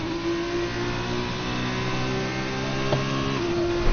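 A race car in a racing video game lap at Monza holds a steady, loud mid-pitched engine drone with strong tonal harmonics, rising slightly in intensity toward the end, with no voices over it.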